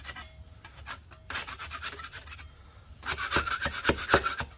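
A blade scrapes ridges off dried first-coat drywall joint compound in short rough strokes, close by, with a couple of bursts that are louder and grittier.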